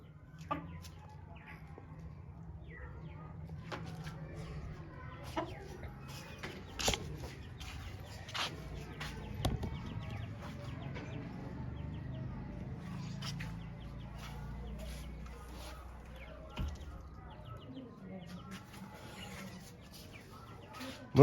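Soft, intermittent clucking from a hen, scattered over a quiet low hum, with occasional faint bird chirps in the background.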